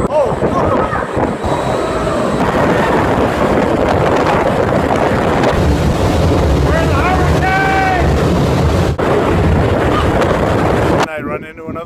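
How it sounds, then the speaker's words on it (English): Strong wind at the Deltawerken storm-surge barrier in the Netherlands roars and buffets the microphone continuously for the whole stretch, loud and close, with water and voices faintly mixed in. "Here comes the wind."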